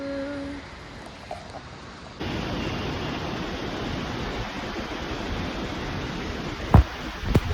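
Dhangdhange waterfall in Taplejung roars as a steady, broad rush of falling water, continuous and fairly loud throughout, with a couple of brief knocks near the end.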